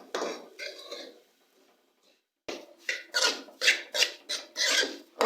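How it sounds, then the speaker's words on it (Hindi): Rhythmic scraping and rasping of a spoon stirring semolina roasting in ghee in a pan, close and fairly loud, with a brief lull before a run of repeated strokes. "सूजी को तकरीबन हम लोग 5 से 7 मिनट तक घी में अच्छी तरह से भूनेंगे"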